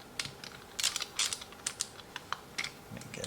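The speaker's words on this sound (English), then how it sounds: "And then a little tightening down with the" A screwdriver tightens screws on the compartment of a remote control water-spraying fire truck, giving a series of small, close clicking and ratcheting ticks in uneven bursts, with no talking.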